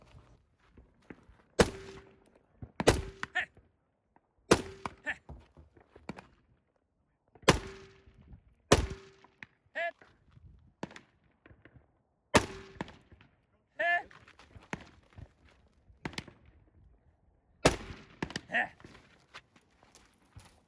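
Pistol and rifle shots ring out at a multigun match stage, loud, sharp reports in irregular bursts with gaps, mixed with footsteps and handling clatter between shots outdoors.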